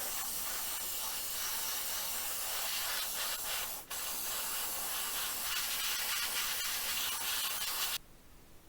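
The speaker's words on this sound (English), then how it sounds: "my airbrush, my old workhorse, is finally given up the ghost after about 8 years of solid service, so it's going to spit a little" A worn-out airbrush sprays paint onto resin miniatures in a steady, close hiss with occasional sputters and spits, running for about eight seconds before cutting off to faint room noise.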